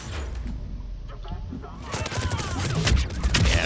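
Rapid turret gunfire from the Mass Effect 3 multiplayer game, a dense volley of shots with explosions that grows louder and busier toward the end.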